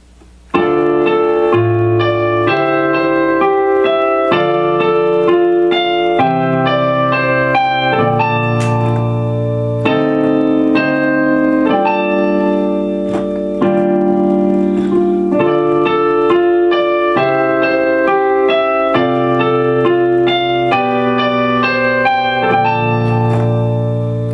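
Solo piano plays the intro of a song from start to finish, a steady stream of sustained chords and melody notes with a low bass line, loud and close, without any voices.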